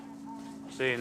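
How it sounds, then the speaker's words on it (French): A walk-through metal detector in a US prison sounds a short, harsh buzzing tone that cuts in abruptly near the end, following a faint steady hum. "il a fait installer des détecteurs de métaux"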